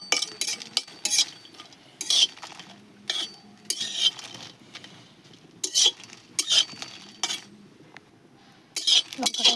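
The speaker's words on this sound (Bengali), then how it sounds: "লঙ্কাটা ভেজে নিচ্ছি" Chillies frying in a pan for a sweet-sour-spicy pickle, with a utensil stirring and scraping: irregular bursts of metallic clinks and scrapes, close and fairly loud, separated by quieter gaps.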